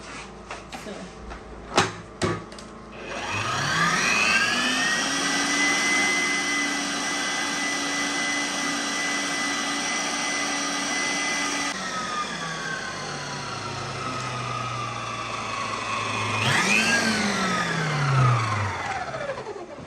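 An electric mixer beats vanilla cake batter, starting after a few clicks, holding a steady whirring hum for about ten seconds, dropping in pitch, then briefly revving up again before winding down.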